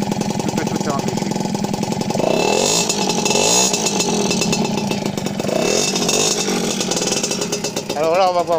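Motobécane 50 N moped engine running steadily with a rigid-mounted, vibrating buzz, loud and close throughout, with pitch swells and a brief rev near the end.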